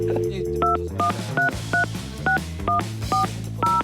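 Touch-tone telephone dialing: a brisk run of about seven short, clear DTMF beeps in a steady rhythm, heard over a soft background bed.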